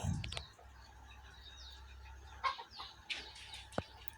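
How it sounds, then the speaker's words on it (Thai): Chickens cluck softly around a breeding rooster in a farm coop, with scattered short calls and a few sharper clucks over a low steady hum, fairly close but not loud. "ส่วนนี้คือพ่อพันธุ์หลักของเรานะครับ พ่อพันธุ์หลัก ที่ยังไม่มีชื่อนะครับ"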